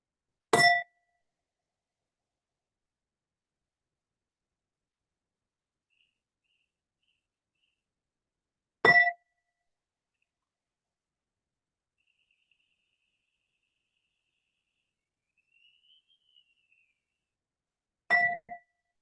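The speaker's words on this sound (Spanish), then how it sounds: "Con estas tres campanas hacemos un llamado a nuestro ser interior" Three meditation bells ring out one by one, about nine seconds apart. Each is a clear, bright strike that fades quickly into near silence.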